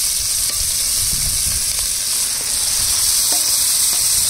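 Black Kadaknath chicken meat sautéing in oil makes a loud, continuous sizzling hiss, steady and close, with faint scraping stirs underneath and no talking.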